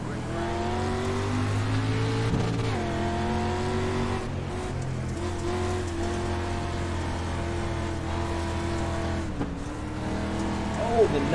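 Street Stock cars racing on a dirt oval at Lanier National Speedway in iRacing: a continuous engine drone with repeated rev rises and lifts at gear changes and corners, steady and loud, with someone talking over it.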